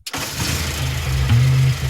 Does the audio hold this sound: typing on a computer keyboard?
no